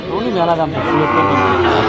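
Cattle at a market in Cumilla, including Sahiwal bulls and calves, give a loud, close drawn-out moo that fills the moment alone.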